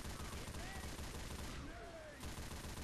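Mounted cannons firing in a Left 4 Dead 2 siege-style map: a dense, continuous barrage of rapid booming shots filling the whole stretch, with game voices talking over it.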